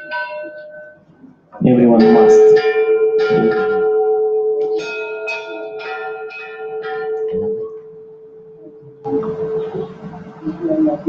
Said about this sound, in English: There are many bells and everyone is allowed to make some noise.